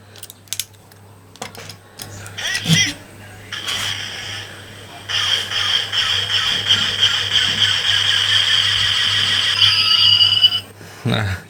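A DX Beat Chaser toy motorcycle, a Kamen Rider Kuuga collectible, switched on and giving off bright electronic effect sounds with a sustained whirring, sparkling tone for several seconds, preceded by clicks and handling noise.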